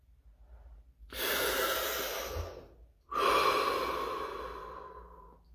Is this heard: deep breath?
yes